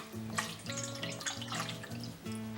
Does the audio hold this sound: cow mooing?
no